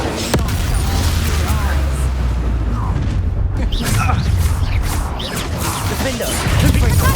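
Booming Confringo spell blasts in Hogwarts Legacy combat, heavy crashes and impacts layered over continuous battle noise, loud and close throughout, with a voice calling out over the fight.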